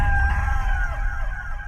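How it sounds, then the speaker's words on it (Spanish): A rooster crows in one long, loud, sustained call, close and clear with a steady pitch that slowly falls at the end. "Y enseguida cantó un gallo."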